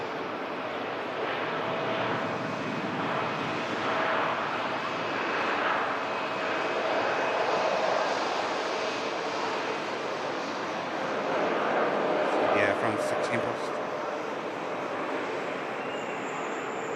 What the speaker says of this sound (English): Dreamliner just rotating now.